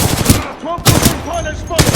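Rapid automatic gunfire in the video game Titanfall 2, loud and close bursts with sharp cracks, interrupted by short pauses and brief electronic beeps between volleys.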